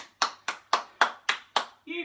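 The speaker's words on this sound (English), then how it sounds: "Give yourself a big clap" Six sharp, evenly spaced hand claps ring out in quick succession during a home workout, followed by a brief voice.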